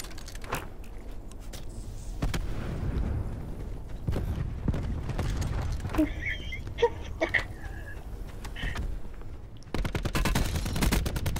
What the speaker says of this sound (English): Explosions everywhere.